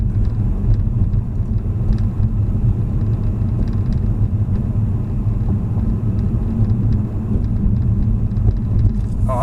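A car drives along a road, its interior filled with a steady, loud low rumble of engine and tire noise that holds constant throughout.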